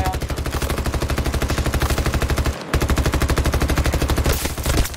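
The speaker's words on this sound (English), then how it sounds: "I'm going to spend my time shooting at the AI while the real players kill me." Rapid automatic gunfire from Battlefield 2042 rattles in a continuous loud burst, breaks off for a split second, then resumes at the same fast, even rate.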